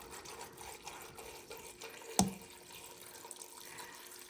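Apple juice pours over cut apples in a cooking pot with a soft, continuous liquid trickle, one brief louder splash or clink partway through, with no talking.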